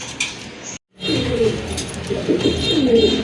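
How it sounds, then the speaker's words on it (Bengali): A pair of large Raj Golla pigeons coo in low, soft repeated phrases, close and steady, after a brief silent gap near the start, with faint higher chirps in the background. "এক জোড়া রাজগোল্লা কবুতর দেখতে পাচ্ছেন"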